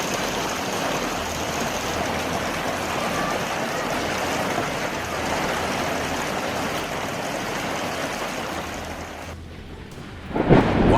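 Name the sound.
storm with hail and strong winds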